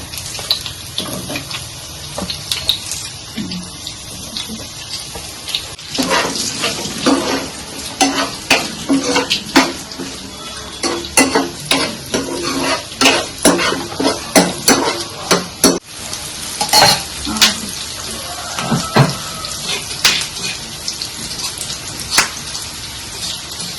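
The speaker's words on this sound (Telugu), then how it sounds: "కొన్ని చిల్లీస్ తర్వాత ఆనియన్స్ స్లైసెస్లో కట్ చేసుకున్న ఆనియన్స్ కూడా మనం ఇందులో వేసుకొని ఫ్రై చేసుకోవాలి" Chillies and sliced onions fry in hot oil in a pan for chicken dum biryani, with a steady close sizzle broken by frequent clinks and scrapes of a spoon stirring.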